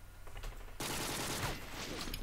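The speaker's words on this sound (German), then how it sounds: "LOL, ein Schuss" A sudden loud burst of gunfire from a Modern Warfare first-person shooter cuts in and is followed by a dense rattling spray of shots and echoing game noise.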